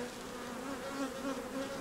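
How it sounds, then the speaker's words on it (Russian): Honey bees buzz densely around an opened hive as a split is made in a taiga apiary, a steady close hum with no pauses and no voices. "летная пчела все равно сюда вернется, на старый улик"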